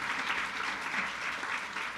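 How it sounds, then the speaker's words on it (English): A round of applause for City of Rialto staff at a women's community event, steady crowd clapping sustained evenly across the whole stretch at moderate volume. "So would you please give the staff, the direct staff, City of Rialto, a round of applause"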